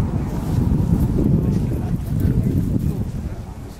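Wind buffets the microphone at an outdoor football match, a steady low roaring rumble that fills the whole moment with no clear voices above it.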